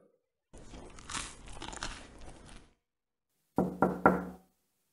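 Knocking on a house door in a short film: a rustling, crinkling stretch gives way after a silence to three loud, sharp knocks in quick succession, close by.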